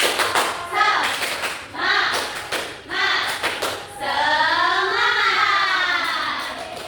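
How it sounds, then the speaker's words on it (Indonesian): Children in a fifth-grade classroom clap a rhythmic spirit clap together, bursts of claps in patterned groups, with children's voices chanting along near the end. "Kita tepuk semangat bareng-bareng ya"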